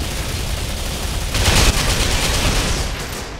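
Rapid gunfire bursts from a multiplayer shooter match on the Chertanovo map, a dense crackling barrage that swells in the middle, with a deeper boom underneath, steady throughout.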